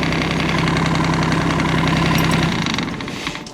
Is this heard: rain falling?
no